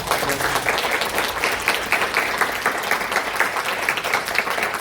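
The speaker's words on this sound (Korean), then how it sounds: "한번 박수 한번 쳐주시겠어요?" A church congregation applauds its music team, a charity-concert group, with sustained, loud, many-handed clapping that stays even and unbroken for several seconds.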